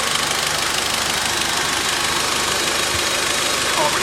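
A VW Golf R Mk7 with a Racingline intake kit idles up on a ramp in a workshop, a steady, fairly loud engine drone running continuously throughout.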